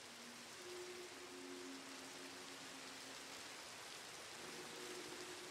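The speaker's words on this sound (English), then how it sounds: "Oh, still raining." Steady hiss of rain falling at night in the video game Minecraft, an even wash of soft noise across the whole stretch, fairly faint and unbroken, with no voices.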